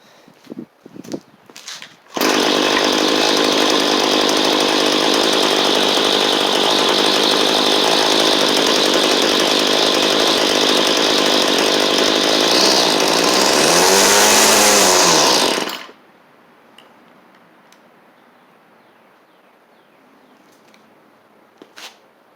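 A cheap small two-stroke engine, running after new carburetor and fuel line repair, starts and holds a loud, steady buzzing idle for about fourteen seconds, rises briefly, then shuts off, leaving quiet background.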